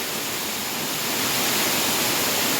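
Water pouring down at the Punyagiri waterfall, a loud, steady rushing roar with no breaks, heard up close and alone.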